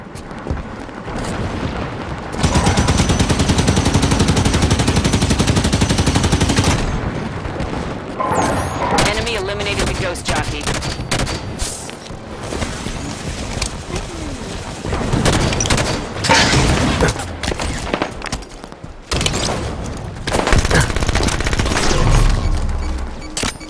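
Grenade blast and gunfire in Halo 5: Guardians Warzone: a long, loud roar of explosion followed by rapid bursts of weapon fire and scattered impacts, with someone talking over the action.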